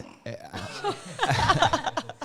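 A baby lets out a big burp, close and loud, followed by adults chuckling and talking briefly.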